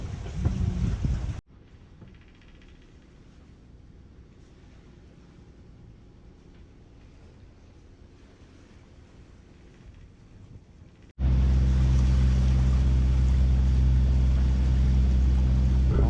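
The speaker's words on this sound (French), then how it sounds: "On va se laisser porter tranquillement par la vague et le vent." Steady rush of wind and waves against a moving sailboat hull, a low continuous wash that swells sharply louder near the end.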